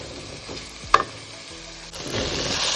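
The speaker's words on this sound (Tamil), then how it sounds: "தக்காளி அப்படியே வந்து ஸ்மாஷ் ஆகணும் இது நல்லா உங்களுக்கு வதங்கின பிறகு" Tomatoes sautéing in a pan for a masala gravy: a soft sizzle broken by a sharp utensil knock and scraping strokes, then a louder, steadier frying hiss near the end, with no talk.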